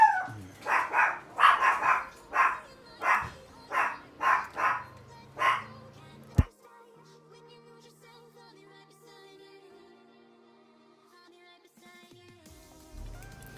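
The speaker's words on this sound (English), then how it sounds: "He's a dippy dog." A dog barks in a rhythmic series of about nine sharp, fairly close barks, followed by a single thump and then near quiet with only faint background sounds.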